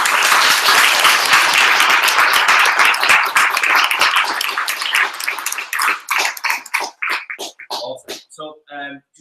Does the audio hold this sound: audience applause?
yes